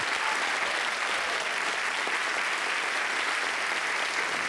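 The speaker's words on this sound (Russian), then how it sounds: "Давайте похлопаем." A large concert audience applauding newlywed couples on stage at the Golden Gramophone awards show, dense steady clapping filling the hall without pause.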